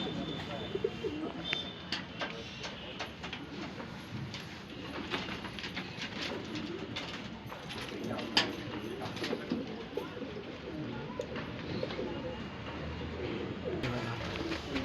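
Shahjahanpuri breed pigeons cooing in low, soft repeated calls amid rustling and handling noise, with background rumble and a speaking voice at times.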